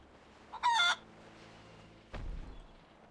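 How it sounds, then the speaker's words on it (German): A chicken in the World of Warcraft video game gives one short, loud, shrill squawk, followed after a pause by a dull low thump, with no talking. "Das Hühnchen rennt."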